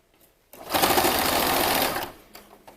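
A sewing machine runs a straight stitch in one steady burst of rapid mechanical chatter lasting about a second and a half, close and clear, with quiet handling noises before and after.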